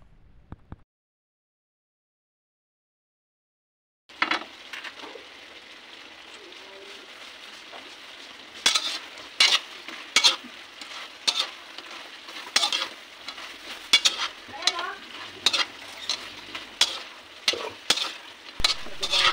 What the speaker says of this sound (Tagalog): Kapag nag-thicken na ang inyong sauce, pwede na natin ilagay ang ating pork.